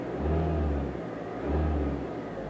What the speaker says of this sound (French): au ralenti, on entend quand même un tout petit peu le moteur